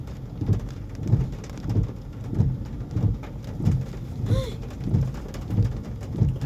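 Heavy rain pours during a drive, a constant wash of water broken by soft, evenly spaced thumping pulses roughly twice a second.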